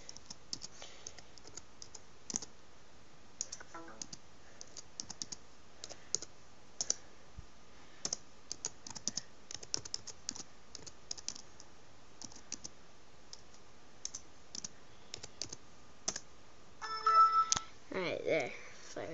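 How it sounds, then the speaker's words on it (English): Slow, uneven single keystrokes on a computer keyboard tapped with one finger during setup of a Diamond VC500, quiet clicks spaced out across the stretch, with a short burst of voice near the end. "it's hard for me to type with a finger"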